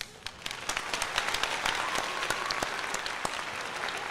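Crowd applause breaks out at a live MLB baseball game after a player is hit in the back of the head and stays in, a dense steady clapping wash with sharp individual claps standing out, moderately loud throughout.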